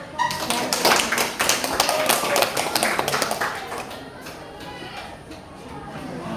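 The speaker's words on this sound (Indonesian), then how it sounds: "beri tepuk tangan" Students in a classroom clap after a presentation on tajwid recitation. The dense, rapid clapping is strongest over the first four seconds, then thins to scattered light taps and room noise.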